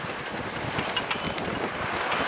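A Sigma 36 sailboat under sail heading up the coast from Broadstairs toward Margate at dusk, with steady wind rush on the microphone and washing water and waves all around, close and continuous without any talking.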